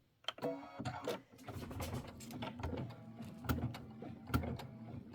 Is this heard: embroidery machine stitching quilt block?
yes